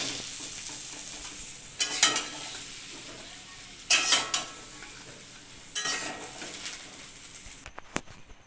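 Chunks of taro stem base fry in a pan with chili, nigella seeds and garlic, giving a steady soft sizzle with three distinct bursts of louder crackling and stirring, and a few sharp utensil clinks near the end.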